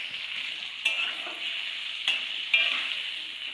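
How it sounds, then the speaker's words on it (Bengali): Potatoes and papaya fry in a pan for a banana-flower dish, a bright steady sizzle with a few louder bursts as pieces are stirred and turned. "আলু পেঁপে ভাজা হচ্ছে,"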